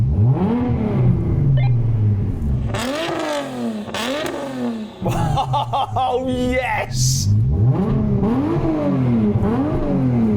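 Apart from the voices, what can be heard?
Nissan GT-R engine revving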